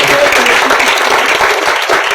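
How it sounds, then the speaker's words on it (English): A crowd applauds at the inaugural of a Rotary club at Lodha Amara, Thane, dense, steady clapping filling the room from start to finish. "let's give a big round of applause to Sureka"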